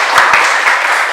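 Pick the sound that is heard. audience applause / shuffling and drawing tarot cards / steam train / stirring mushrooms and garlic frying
audience applause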